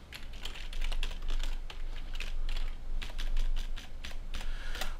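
A password being typed on a computer keyboard, with quick close clicks of separate keystrokes in an uneven rhythm and no voices.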